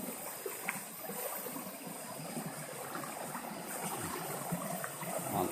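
Steady broadband rush of a flowing river stream, continuous and fairly close throughout with faint trickling detail, no talking.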